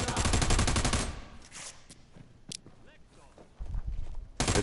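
Rapid automatic gunfire in a shooting video game rattles in a loud burst at the start, followed by scattered single shots and a final burst, while someone talks throughout.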